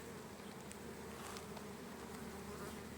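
Honeybees buzz steadily around an open split hive in July in Konya, Turkey, a dense, even drone of many wings, close and constant, with no talking.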